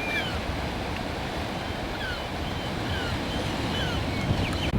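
Waves wash onto a beach along the Fife Coastal Path between Kingsbarns and St Andrews, a steady, loud surf roar with wind noise and no talk.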